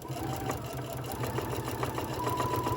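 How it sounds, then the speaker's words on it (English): A sewing machine stitches through scrap paper die cuts, running in a fast, even mechanical whir with rapid repeated needle clicks, close and continuous throughout with no voices. "Just try to sew as straight as you can."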